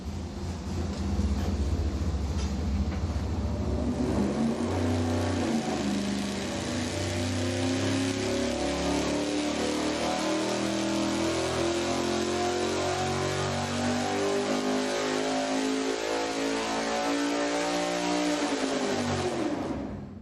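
V8 engine with an old-school dual-quad intake, baseline regular-weight flywheel and normal harmonic balancer, sweeps steadily upward on a dyno at 300 RPM per second, a loud continuous rising roar that cuts off abruptly at the end.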